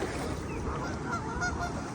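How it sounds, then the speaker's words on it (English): A large flock of about 400 geese honks continuously at feeding time, dense overlapping calls at moderate distance forming a steady, busy chorus with no talk. "Now we have all the geese over there."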